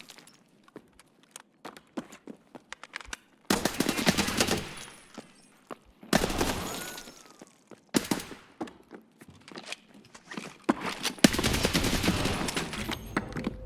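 Video game gunfire comes in loud bursts of automatic fire with single shots between, heavy volleys around the middle and toward the end, and no talk.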